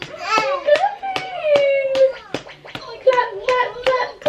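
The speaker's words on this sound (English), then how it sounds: "Jonah's just learnt to clap" A baby claps his hands in a handful of sharp, irregular slaps at home while an adult talks excitedly and sings over him, voices running through most of the moment.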